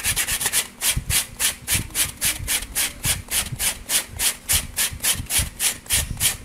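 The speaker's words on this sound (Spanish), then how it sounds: "Todo el contorno de la orejita le vamos a dar una pulidita con la lija." Sandpaper rubbing back and forth along the edge of a small wooden bunny-ear cutout, a steady run of quick, even scrubbing strokes close up with no talking.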